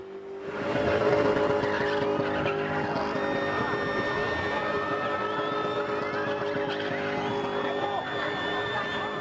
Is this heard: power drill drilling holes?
no